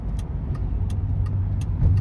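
Car pulling up and parking in the small city of Odessa, its engine idling at close range with a low rumble and faint ticking clicks over about two seconds.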